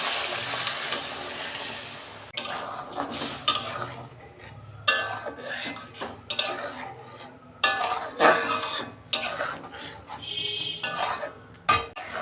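Tarka spice tempering poured into a pot of dal, a sharp sizzle and hiss with stirring and clinks of a spoon against the pot, in short repeated bursts close up.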